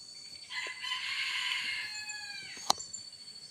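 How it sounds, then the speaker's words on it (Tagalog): A captured red junglefowl gives a single close crow that rises and trails off over about two seconds, followed by a sharp click, in a quiet setting. "May mga labuyo din kasi mga ka-hunter na kahit nahuli na tumitilaok pa rin."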